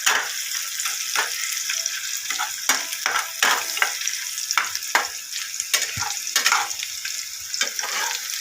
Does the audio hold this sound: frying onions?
yes